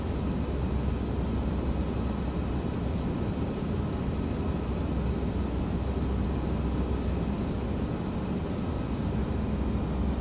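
A Boeing 737-900's jet engines throttled up in the X-Plane flight simulator, a steady broadband roar with a deep rumble that holds constant and loud throughout, no voices.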